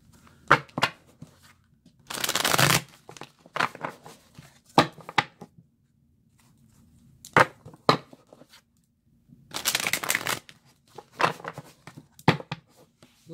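A deck of cards being shuffled nearby in repeated bursts, two long dense riffles plus scattered shorter taps and slides between quiet pauses, with no voices.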